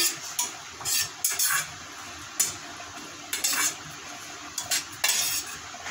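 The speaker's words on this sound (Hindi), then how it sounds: "इसको बस खाली हल्का हल्का ऐसे ही भूनना है इसमें" A spatula scrapes and clinks against a pan as khoya dry-roasts on low heat, giving short metallic scraping strokes at an irregular pace over a faint background, with no speech.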